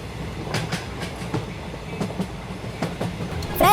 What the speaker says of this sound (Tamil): அந்த ட்ரெயின் அங்கு இங்குமா விசிறி அடிச்சிச்சு.